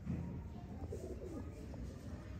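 Breeder pigeons coo softly in short low murmurs against a steady background hum, faint and close, with a few brief calls spaced across the moment.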